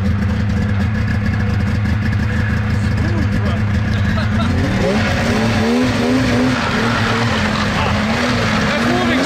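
A Ski-Doo X3 snowmobile with a two-stroke engine revs hard nearby, its loud buzzing drone rising and falling in pitch as the throttle opens and the engine runs in the snow.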